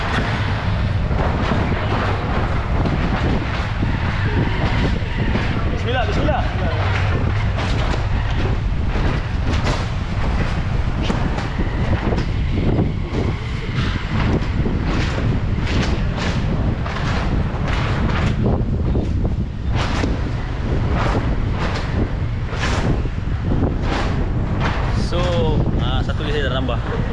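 A SYM 185VF3i motorcycle is ridden on the road, with steady engine drone under heavy wind buffeting from the rider's microphone, lasting throughout with occasional speech.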